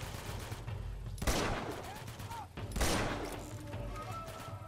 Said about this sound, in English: Is someone like right next to me shooting me?